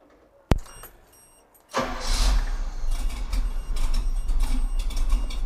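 A 1980s vintage car engine cranks with a sharp click, then catches and settles into a steady, loud idle that runs close by to the end, with no talk over it.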